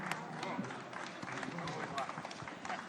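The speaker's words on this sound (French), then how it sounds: "On peut applaudir avec chaleur" Applause from a conference audience in a plenary hall, a steady dense wash of many hands clapping continuously throughout, fairly close and even in level.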